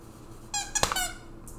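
Squeaky cookie-shaped dog toy giving a short squeak, then a second quick squeak with a brief tail, near and fairly loud against a quiet background.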